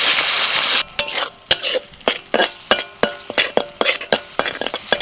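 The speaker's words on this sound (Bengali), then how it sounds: "মশলার সাথে চিংড়ি মাছটাকে কষিয়ে নিচ্ছি" Ground shrimp paste is stir-fried with spices in a pan for a cauliflower dish. A brief burst of sizzling gives way to irregular, sharp scrapes and knocks of a spatula against the pan, close and clear.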